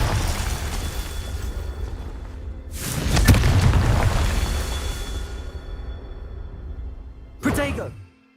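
Confringo explosion spell in Hogwarts Legacy: a sudden loud blast that rumbles and fades over a few seconds, then another sharp burst near the end, with speech in the game around it.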